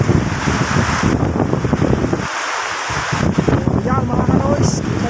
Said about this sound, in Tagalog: Kita nyo naman kung gaano kalakas yung hangin.